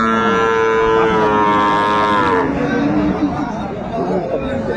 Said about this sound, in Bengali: গাভী বাছুর আমরা দেখছিলাম।